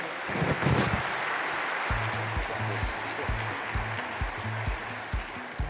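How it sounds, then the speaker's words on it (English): A crowd applauding at the opening ceremony of the ADIPEC petroleum exhibition and conference in Abu Dhabi, a dense wash of clapping that continues throughout, with low tones running underneath. "Can we give them a warm round of applause?"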